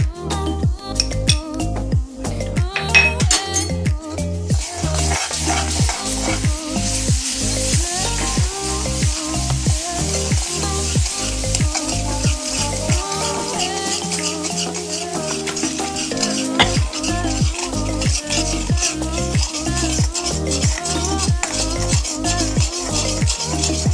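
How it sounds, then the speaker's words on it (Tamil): Samosa filling of potato with amchur powder, ginger and garlic stirred over slow heat in a pan: steady rhythmic scraping strokes over a continuous hiss of frying, close and loud, with occasional clinks of the utensil. "இப்படி ஸ்லோவில் வச்சு அந்த மசாலா எல்லாம் நல்லா மிக்ஸ் பண்ணிக்கோங்க"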